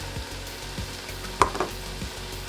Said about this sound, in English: So 2 to 3 minutes sauteing these vegetables